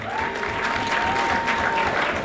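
Audience applause fills a room at a university athletics awards banquet, steady dense clapping from many hands throughout, with faint voices mixed underneath.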